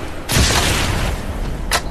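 Gunfire in the video game Crysis 3 sounds as a heavy, booming burst of shots followed by a sharp single crack, loud and close.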